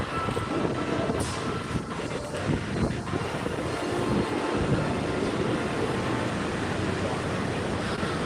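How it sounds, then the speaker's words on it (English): A Walt Disney World Magic Kingdom monorail carries riders on the Green line, with a continuous loud rumble and whoosh of the moving train heard from inside the car. "we're on Monorail Green this afternoon."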